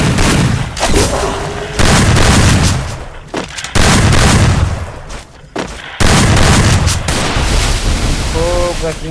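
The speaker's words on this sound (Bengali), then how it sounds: "সুন্দর একটা হেডশট মানে দিয়েছিল শর্ট গানের" Shotgun blasts in a video game, several loud booming shots in irregular bursts with reverberating tails, heavy and close, mixed with game effects and a short musical chime near the end.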